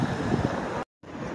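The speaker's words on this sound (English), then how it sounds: "And now it's windy." Wind blows outdoors in a steady, moderate rush across the microphone, broken by a brief moment of silence before the gusting resumes.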